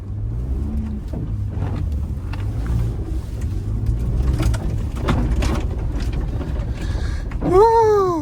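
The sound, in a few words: quad bike engine revving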